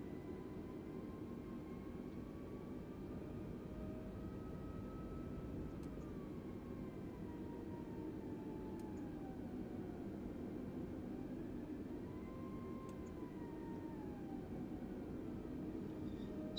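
An Airbus A320neo-type airliner landing in Microsoft Flight Simulator 2020 at Zurich, a steady broad jet rumble with a faint whine drifting in pitch, continuous and moderately distant, no talk.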